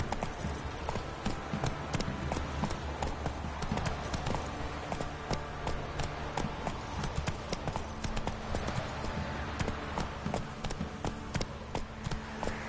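Horse hooves gallop in a steady, fast clip-clop rhythm in The Witcher 3 video game, loud and continuous over a dense bed of game ambience, with no talking.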